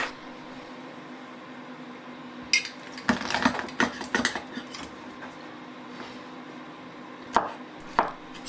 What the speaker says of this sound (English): Squash the garlic and finely chop it.